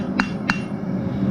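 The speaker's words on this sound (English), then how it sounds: "I'm just hammer texturing out where we sanded that." Two sharp, ringing hammer blows land about a third of a second apart as high carbon steel for a fire steel is textured on an anvil, close and clear over a low background hum.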